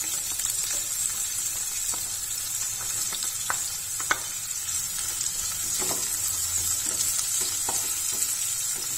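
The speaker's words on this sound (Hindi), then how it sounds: "गार्लिक और ओनियन को हम हल्का सा सुनहरा होने तक भून लेते हैं।" Garlic and a large sliced onion fry in a pan until lightly golden, a continuous close sizzle with scattered stirring scrapes and taps of the spoon, no voices.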